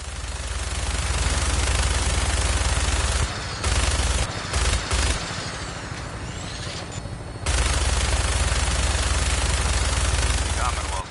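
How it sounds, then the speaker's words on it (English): A helicopter-mounted minigun in Fallout 4 rips out loud, continuous fire over a heavy rotor drone, with a few brief pauses before the sustained barrage resumes. "That minigun in front of you is loaded and ready to fire"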